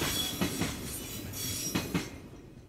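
A freight train hauling tank containers rolls through Kanazawa, its wheels clacking over rail joints in a steady rhythm of paired knocks with a continuous rumble, fairly distant and without voices.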